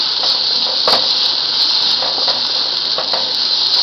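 Food being sautéed in a pan, a steady bright hiss of sizzling oil with a few louder crackles and stirring scrapes scattered through, close and without talk.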